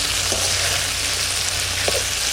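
Tengra fish frying lightly in a pan, a constant loud dense sizzle throughout with a couple of faint knocks, no talking.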